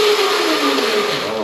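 Happyrun F18 electric bike motor spinning with a steady high whir and a tone that slowly sinks, loud and close, with no talk over it.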